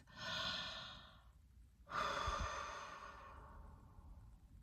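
Close, quiet human breathing: a soft breath lasting about a second, a short pause, then a longer, sigh-like exhale that slowly fades out, with no talking.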